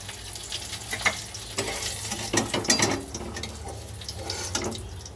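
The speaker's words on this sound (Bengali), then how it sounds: "এই আমার মাছগুলো ভাজা হয়ে গেছে দু ব্যাচে।" Pieces of Catla fish fry in hot oil with a steady crackling sizzle, broken by scraping stirs and clinks of a utensil against the pan, heard close with no talking.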